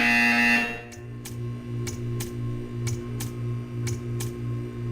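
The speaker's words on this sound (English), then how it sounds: "You will hear a buzzer." A short buzzing tone from the video game Portal 2, then a run of sharp, evenly spaced electronic clicks over a low steady hum.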